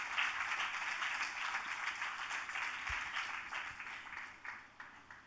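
Audience at an inaugural function of a music and arts festival breaking into steady, fairly distant applause, a soft continuous patter of many hands with no voices.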